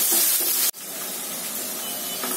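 Onions frying in a pan for a Bengali-style chicken curry, a close, steady hissing sizzle that cuts out abruptly for an instant and then resumes at an even level, with no talk.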